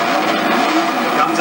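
Onboard V8 superstock race car weighing 1,500 kilos, recorded in-car during a teams championship semi-final race, with a loud, steady engine roar filling the whole short stretch and a hint of tyre scrub.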